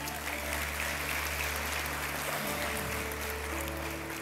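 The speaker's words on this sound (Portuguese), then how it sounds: "Vamos aplaudir Jesus?" Church congregation clapping for Jesus at Igreja da Família, a dense, steady roar of applause filling the room for several seconds under a low sustained hum.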